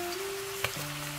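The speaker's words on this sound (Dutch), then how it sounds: "We zijn hier onze uien aan het bakken en we zullen goudbruin bakken." Onions and garlic sizzling in a pan while cooking a Surinamese kwie kwie masala curry, a soft steady frying hiss with a brief clatter partway through, no voices.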